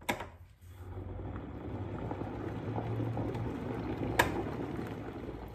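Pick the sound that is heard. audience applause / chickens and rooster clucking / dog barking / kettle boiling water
kettle boiling water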